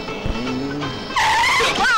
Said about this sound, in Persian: این چجور ترمز کردن دیوونه؟